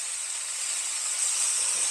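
Holy Trinity vegetables frying in bacon grease give off a steady, even sizzle and hiss that holds at a constant level, with a faint low clatter near the end.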